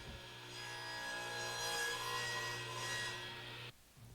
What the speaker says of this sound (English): Then make a 45 degree spline cut.